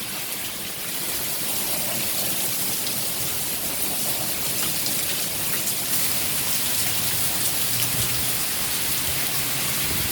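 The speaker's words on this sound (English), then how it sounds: "The rain is picking up." Heavy rain from the outer bands of a tropical storm coming ashore on the North Carolina coast pours down steadily as a dense, continuous wash of close, loud rainfall with no break and no voices.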